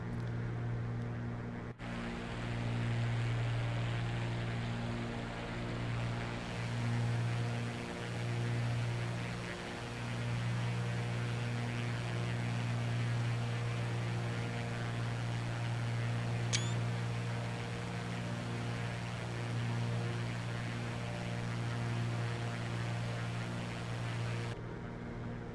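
A Cessna seaplane's engine heard from outside the aircraft in a VATSIM flight simulator, a steady, loud droning hum that holds nearly unchanged throughout, with a single brief camera-shutter click partway through.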